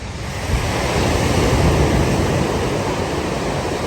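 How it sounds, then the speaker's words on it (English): Sea waves roll onto the beach at Goa, giving a loud, continuous wash of surf with a rumbling low end and some wind buffeting the microphone, with no voices. "ASMR of the beach water."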